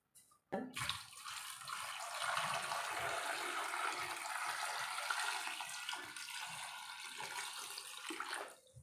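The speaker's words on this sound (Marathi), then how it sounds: "बटाटे भिजतील इतपत आपल्याला पाणी घालून घ्यायचं आहे" Water pours steadily into a metal pressure cooker holding potatoes for several seconds, a continuous splashing rush that fades out at the end.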